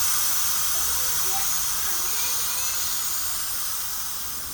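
A loud, steady hiss of steam venting close by from an Instant Pot pressure cooker, fading slightly toward the end.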